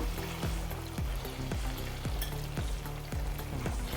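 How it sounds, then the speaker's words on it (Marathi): Cream being stirred into a malai methi matar curry in a pan, with a steady sizzle and a regular scraping stroke about every half second, close and continuous with no talking. "आता आपण हे सर्व मिक्स करून घेऊया याच्यामध्ये एक वाटी ही मलाई टाकून देऊया"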